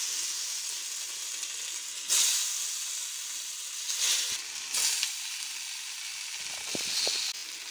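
Sliced colocasia leaf rolls (alu vadi) frying in hot oil, a steady bright sizzle with brief louder flare-ups as pieces are moved, close and without talk.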